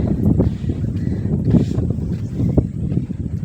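Strong wind buffets the microphone atop Asherigad hill fort, a loud continuous roaring rumble with gusting surges throughout.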